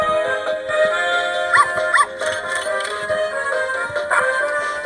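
Pup Stars light-and-sound wall toy playing electronic dog barks and yips over a tinny looping tune, with a couple of distinct bark calls mid-way, close and steady.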